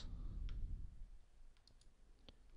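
Faint, sparse computer mouse clicks, about three or four scattered sharp ticks over a low background rumble in a quiet room.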